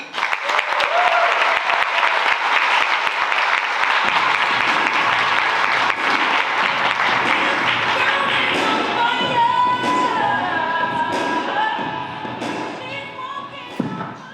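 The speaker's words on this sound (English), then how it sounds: "Let's please welcome and give a round of applause to our keynote speaker, Dr. Henson." Crowd applause for a keynote speaker at a Women's History event, full and sustained for most of the stretch, then thinning into scattered claps near the end with some voices.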